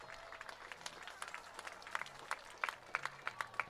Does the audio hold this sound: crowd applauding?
yes